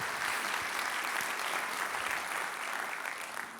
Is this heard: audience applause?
yes